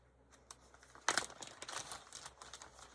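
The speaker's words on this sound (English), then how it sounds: "I have a plastic bag that had something in it." A plastic bag that once held a purchase crinkles and rustles as it is handled, with a quiet, brief burst of crackling, then softer scattered crinkles, and no talking.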